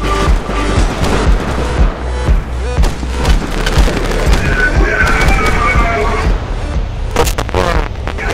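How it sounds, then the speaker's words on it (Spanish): Rapid bursts of gunfire and booming explosions from the video game Arma 2, sharp repeated shots over continuous battle noise, with people talking over it. "veo venir tiros de la izquierda"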